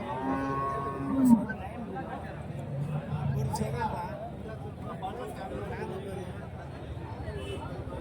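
Cattle at the Karimangalam market, where dairy cows are sold, give a brief moo near the start over a steady hubbub of people chatting and bargaining close by.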